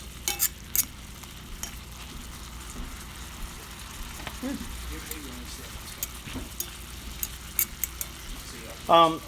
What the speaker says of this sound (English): now they're sauteing